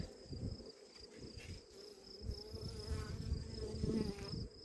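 A steady, soft hum of many honey bees buzzing around a weak hive, continuous and fairly faint, with occasional low thumps.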